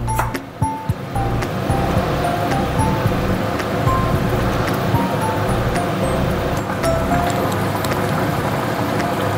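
Fish curry (jhol) bubbling and boiling in a pan, a steady dense seething bubble that fills the whole stretch at close range, with no talking over it.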